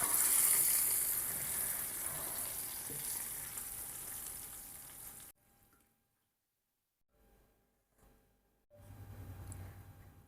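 Curry-leaf tempering crackles loudly in hot oil as it is poured into pachi pulusu, a steady broadband sizzle for about five seconds, then near silence with faint clinks and a brief renewed hiss at the end.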